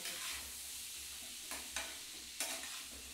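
Diced potato and papaya with salt frying in a pan, a steady faint sizzling hiss with a few brief scraping stirs, close but quiet, with no talking.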